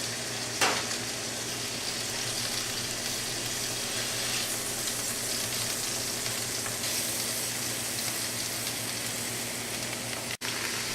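Beef roulades sizzle steadily in a hot pan along with garlic and vegetables, giving a continuous even frying hiss. A brief clatter sounds near the start and a short knock near the end, with no talking.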